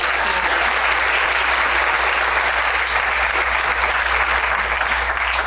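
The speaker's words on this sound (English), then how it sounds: "Can we give both of them a round of applause?" Steady, sustained applause from an audience at a talk held at Vanderbilt, dense and even throughout with no voices standing out.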